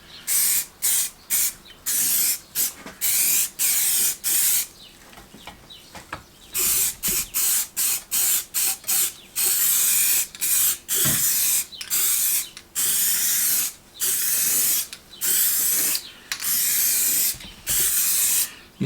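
Aerosol spray paint on restored motorcycle parts: repeated short bursts of loud hissing, each a second or so long with brief pauses between, close to the microphone and with no talking.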